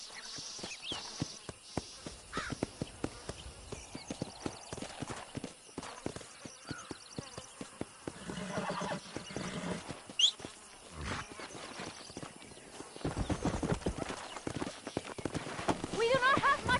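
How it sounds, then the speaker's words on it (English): Steady clip-clop of horses trotting as they pull a stagecoach in the video game Red Dead Redemption, with creaking and rattling, a brief whinny, and buzzing insects in the background. "They are good horses."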